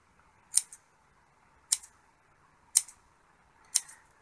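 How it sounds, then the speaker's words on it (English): Scissors snipping electronic parts into pairs at a soldering bench, four crisp close snips spaced about a second apart with quiet pauses between. "Actually, I should use the scissors for this, really. So I'll cut these into pairs."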